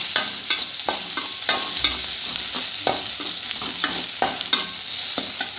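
Green chilies frying in a pan for a hotel-style potato masala, with steady sizzling under repeated scraping strokes of a spoon stirring them, close and fairly loud with no talking.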